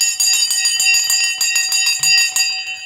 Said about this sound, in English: Oh, the bell's just going.